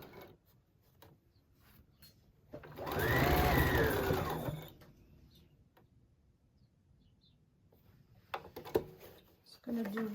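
A sewing machine runs for one short burst of about two seconds as it stitches fabric under the presser foot, set among quiet handling clicks and soft talk.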